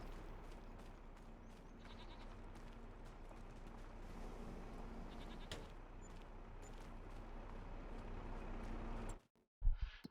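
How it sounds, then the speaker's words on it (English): Goats bleat in the Farming Simulator 25 video game, with repeated calls over a constant low machine hum before the sound cuts off sharply near the end. "Now the goats."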